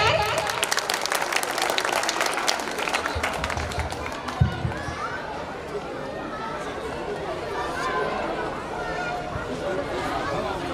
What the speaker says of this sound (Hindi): जोरदार तालियां बजा दीजिए एक बार